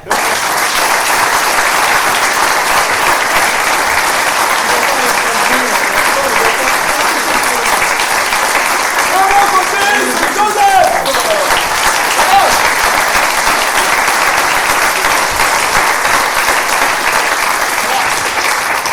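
Loud, dense audience applause at a French game show, sustained evenly for the whole stretch, with a host's voice briefly rising through the clapping midway.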